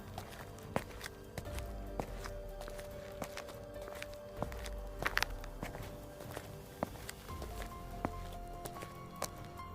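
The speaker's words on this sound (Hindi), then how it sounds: "फुटस्टेप्स की आवाज और साफ होती जा रही थी" Footsteps tap steadily on a hard floor, fairly quiet and evenly paced, with faint background tones and no talking.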